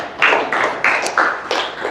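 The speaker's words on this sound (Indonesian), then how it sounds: "Tepuk tangan dulu untuk." Children in a primary school classroom clap in unison, a series of about five sharp, evenly spaced group claps, close and loud, no talk.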